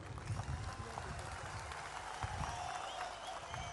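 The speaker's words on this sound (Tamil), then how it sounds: "இவங்களுக்கு ஒரு கைத்தட்டல் கொடுங்க" Broad, steady applause from a crowd at a political party public rally fills the clip, with a noisy, busy room behind it and no clear voice on top.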